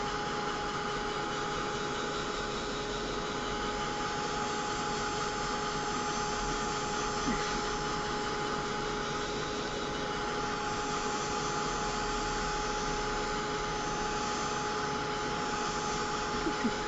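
A heat tool drying Versafine Clear ink on a poly plate blows with a steady, unbroken whirring hum at even loudness from start to finish, with no talking.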